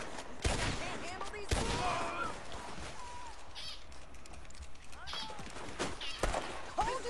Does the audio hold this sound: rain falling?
no